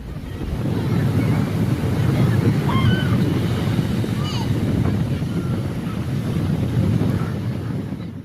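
Surf breaking on a beach in Ghana, with a steady broadband roar from the waves and gusting wind buffeting the microphone throughout. Faint bird calls sound now and then over the surf.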